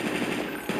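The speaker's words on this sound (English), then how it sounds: "Was that a gunshot? Yes, it was, actually." Rapid automatic gunfire rattles in a dense, continuous burst, loud and close, set in an urban Detroit scene with no voices over it.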